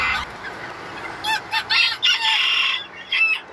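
Bantam chickens cluck in repeated short bursts at close range while being fed with their chicks, with a steady soft hiss underneath and no talking.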